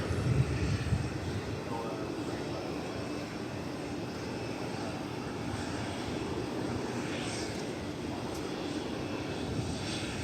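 An Airbus A319 arriving at DFW Airport gives a steady, broad jet roar that stays even across the whole stretch, heard from a distance with no talk.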